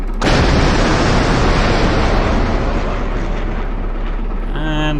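A surface-to-air missile leaves an M48 Chaparral launcher in a combat flight simulator: a sudden loud roaring blast that sustains as a broad rushing thunder for several seconds, then fades, with a voice briefly heard at the end.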